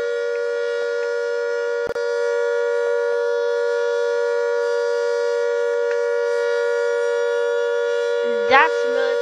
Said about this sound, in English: to show you that I'm actually far away from these sirens